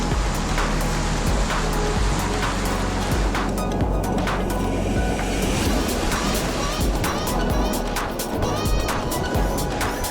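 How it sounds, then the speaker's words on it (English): River waves on the Sulphur River at the Sulphur gates churn in a loud, continuous roar of rushing water, with sharp splashes and crashes breaking through the steady wash. "Pretty awesome waves."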